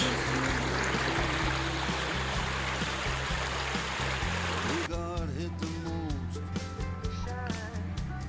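Water from a creek in the Brindabellas near Canberra flows in a steady, continuous rush, with a low hum running beneath. Bird calls begin partway through.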